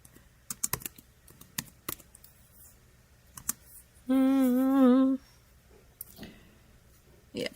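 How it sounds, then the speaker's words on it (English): Typing on a computer keyboard in quick sharp clicks, close and crisp, broken by a steady electronic tone lasting about a second midway. "But we'll just go ahead and type it out here."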